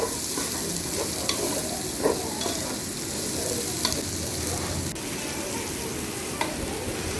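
Steady sizzling and frying of three to four onions sautéing in a pan for egg bhurji, with occasional stirring scrapes and clicks over a constant hiss.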